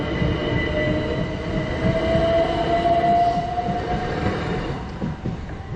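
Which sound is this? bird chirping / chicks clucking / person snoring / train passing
train passing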